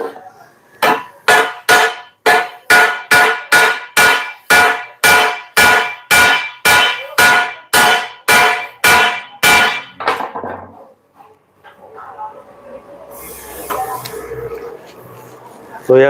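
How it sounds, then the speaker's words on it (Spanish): Roughly twenty sharp metal hammer blows in a fast, even rhythm, loud and close, while a cracked 4-inch International-type blade is prepared for welding, then a pause and some shuffling and quieter noise. "martillo."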